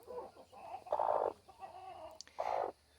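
Broody hen on her nest, flustered, giving agitated low clucks and two louder drawn-out growling squawks, close and alone in a quiet setting.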